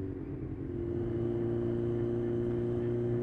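Kawasaki Z1000 motorcycle ridden out toward Dalby Forest, with a steady, close engine drone and strong low rumble held evenly throughout.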